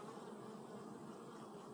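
Honeybees humming steadily in an opened hive as they rebuild comb and fill it with nectar; a dense, continuous buzz from many bees close by, with no talking.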